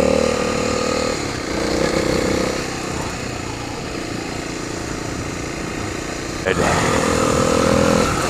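A dirt motorcycle engine labors on a steep rocky hill climb, a continuous loud drone that shifts pitch as the throttle changes, with a voice speaking over it at times.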